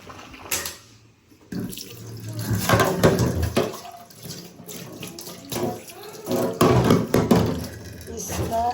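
Water runs from a tap, splashing and gushing unevenly into a container, with a short pause near the start and a voice occasionally heard over it.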